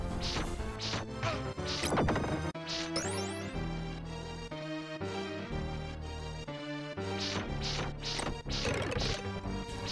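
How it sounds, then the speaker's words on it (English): In the Super Castlevania IV video game, a red skeleton collapses with repeated comical crashing, clattering bursts that ring out over busy game music. "I love the sound the red skeleton makes whenever it collapses, it's just a really comical sound effect."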